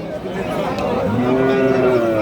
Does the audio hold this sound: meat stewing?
no